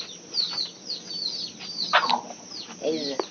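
A large native rooster clucks and calls close by in short repeated bursts, with a faint voice under it.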